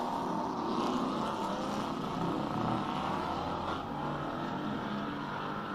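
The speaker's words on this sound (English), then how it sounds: "car number 60, James Temple, in the Terlinger Ford, 5-litre, 8-cylinder" Ford Mustang race car with a 5-litre eight-cylinder V8 at a hillclimb, a steady, dense engine roar heard from a distance, continuous and without talk.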